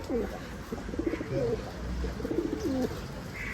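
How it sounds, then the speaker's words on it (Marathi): Soft, repeated cooing of a wild pigeon, several low rolling calls in a row against faint outdoor background noise. "तुम्हाला दाखवतोय जंगली कबूतर"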